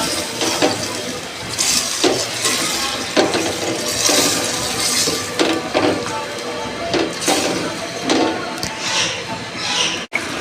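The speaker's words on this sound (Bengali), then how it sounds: "মাছটা দিয়ে ভালো করে কষিয়ে নিতে হবে" Snakehead fish frying in a pan while being stirred, with irregular scraping and clattering of a utensil against the pan over a steady sizzle, fairly close and continuous throughout.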